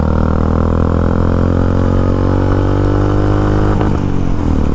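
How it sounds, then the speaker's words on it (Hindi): A motorcycle fitted with a Red Rooster aftermarket performance exhaust idles with a deep, throaty exhaust rumble, steady and close, with a slight blip of the throttle near the end. "बहुत ही सूदिंग साउंड आ रही है भाई, परफॉर्मेंस एग्जॉस्ट है रेड रूस्टर का"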